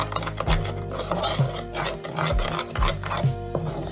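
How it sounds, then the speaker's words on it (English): A whisk scrapes and stirs butter and flour in a pan for macaroni and cheese, making rhythmic rubbing strokes that repeat every half second or so, close and fairly quiet with no talking. "It's not really that much to whisk though."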